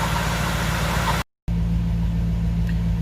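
Nissan D22 Navara ute with a V8 engine idling in a workshop doorway, a steady low rumble that cuts out briefly and then resumes at an even, slightly deeper tone.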